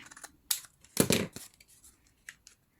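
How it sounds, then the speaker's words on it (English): Scissors snipping through a paper pocket tag in a papercraft project, a few close crisp cuts with one longer slicing crunch in the middle. "This is probably too long, so I'm gonna cut it a little bit here."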